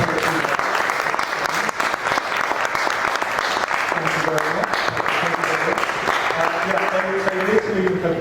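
Audience applause at a poetry open-mic night in a brewery, steady and dense clapping throughout, with voices speaking over it toward the end.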